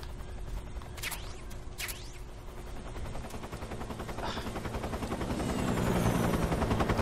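A helicopter in the video game Metal Gear Solid 3 whirs in the background amid bursts of gunfire, its rotor drone growing louder and closer toward the end, with sharp shots and clicks early on.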